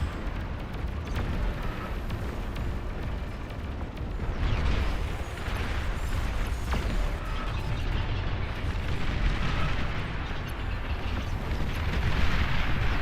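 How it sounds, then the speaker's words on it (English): Bombing explosions in an 8v8 RTS video game, a steady broad rumbling roar of blasts that swells in waves throughout, with no talking over it. "There's the kaboom."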